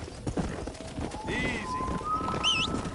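A stallion's hooves clip-clop on the ground in the Western video game Red Dead Redemption, with an irregular trotting rhythm close by, a brief whinny, and birdsong, under talking voices.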